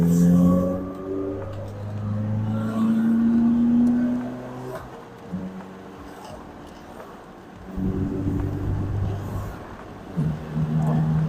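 A 2008 Morgan 4/4 sports car engine revs and accelerates nearby, rising and falling through several throttle pulls with quieter idle gaps between.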